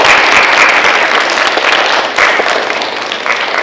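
Sustained, dense applause from an audience at a high school honor roll assembly fills the room evenly, loud and steady with no voices over it, easing slightly toward the end.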